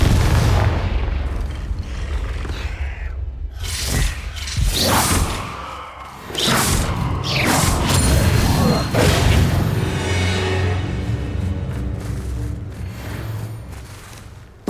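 Confringo spell blasts in Hogwarts Legacy: a long, loud stretch of repeated booming impacts, whooshes and crackling bursts layered over a constant low rumble, with intensity rising and falling throughout.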